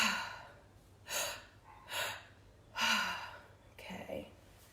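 Group breathwork session: a few deep breaths, each a long airy inhale and exhale, drawn in and let out in four or five separate pulses over quiet room tone, close and moderately soft.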